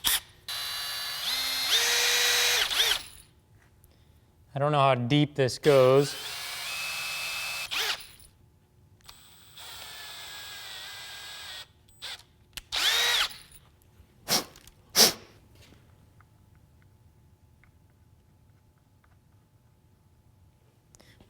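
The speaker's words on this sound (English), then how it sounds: "Got a 7/64 drill bit." A power drill fitted with a 7/64 drill bit bores holes near stainless bolts, running in several short bursts with pauses and ratcheting clicks between, close and loud, with someone speaking briefly.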